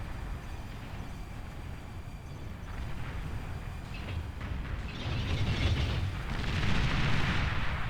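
Bombers' bombing run in Beyond All Reason, a rolling series of explosions and rumbling impacts that builds from a low steady roar into louder, denser blasts toward the end.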